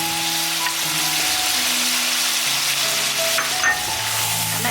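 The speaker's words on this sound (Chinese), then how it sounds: "西红柿放进去， 把切好的木耳放进去" Tomatoes and wood ear mushrooms frying in a wok, a steady loud sizzle with occasional stirring scrapes and a soft musical tone underneath, no voices.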